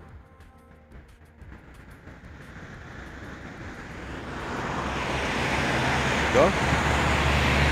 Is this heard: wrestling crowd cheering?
no